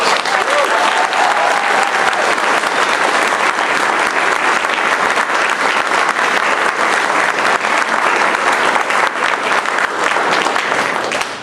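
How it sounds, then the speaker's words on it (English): A large crowd at a 2022 high school graduation ceremony applauds loudly and continuously for over ten seconds, a dense wash of clapping with some cheering mixed in. "Let's give another round of applause"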